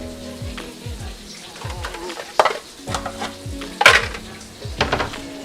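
Lion's Head pork meatballs searing in a wok, with a steady sizzle and occasional metallic clanks and scrapes of a utensil against the wok, close and clear.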